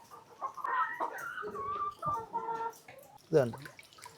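Hens cluck in short bursts close by in a coop of about 175 hens, mixed with a person talking over the birds.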